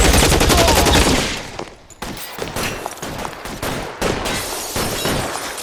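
Gunfire in the video game L.A. Noire: loud, dense bursts of rapid shots fill the whole stretch, dipping briefly between volleys, with no voices over them.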